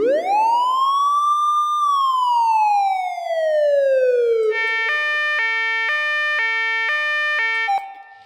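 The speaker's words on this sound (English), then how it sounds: "this is my police siren patch, and it's got a standard American police siren and a European one." A synthesized police siren preset from the SFX Pro 9000 plays alone and loud, first a smooth American-style wail sweeping up and down, then a European two-tone hi-lo pattern alternating steadily.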